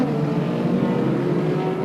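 Hot rod race cars circle the Brafield track in 1981, their engines a loud, unbroken roar with shifting tones as the cars pass close by.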